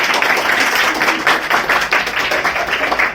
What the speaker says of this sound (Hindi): जोरदार ताली इनको भाई